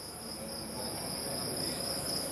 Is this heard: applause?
no